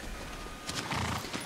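A horse in the video game Shadow of the Colossus gives a brief, close snort or whinny over steady background game ambience, lasting about a second.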